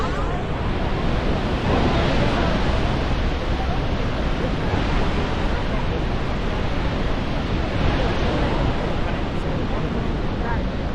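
Roaring waterfall at Niagara Falls, a dense, steady rush of crashing water and spray filling the whole clip, loud and continuous with wind buffeting the microphone.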